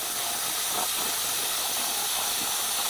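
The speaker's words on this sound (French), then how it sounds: "j'étais en train de remplir le réservoir d'eau que je viens de mettre ici" Water pours into the clean-water tank of a Dreame Dreambot L10S Ultra robot vacuum as a loud, continuous hiss, steady and unbroken for nearly three seconds, with no talking.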